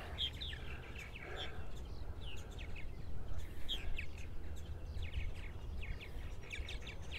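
Purple martins chirping in repeated quick, bright calls over a low steady rumble of breeze, fairly faint and distant.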